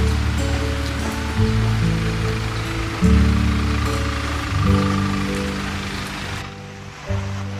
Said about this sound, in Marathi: असा मुसळधार पाऊस आला ना